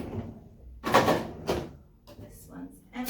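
A household drawer is slid open and shut in a few quick wooden scrapes and knocks, close by, while a person talks briefly between them.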